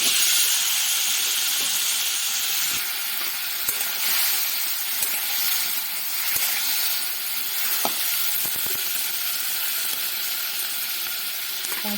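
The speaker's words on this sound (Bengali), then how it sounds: "এবার আমি এতে ডাঁটাগুলো দিয়ে দেবো।" Drumstick stalks sizzle in a hot pan for a mustard paturi dish, a steady loud hiss and frying crackle with a few soft clicks, close and with no talk.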